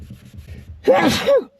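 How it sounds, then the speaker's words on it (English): A single loud sneeze bursts out close by after a soft rustling lead-in, with a sharp intake and explosive release. "Or just listen for the sneezes,"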